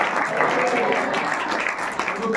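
A church congregation at a Sunday meeting applauds for Jesus Christ, a steady wash of many hands clapping at moderate loudness across the whole stretch, with no pauses and some voices mixed in.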